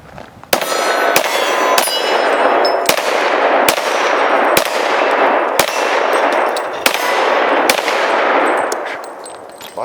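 Bullets strike a steel gong target in a run of about ten loud, sharp metallic clangs at a steady pace, each ringing on until the next impact, with no talk over them.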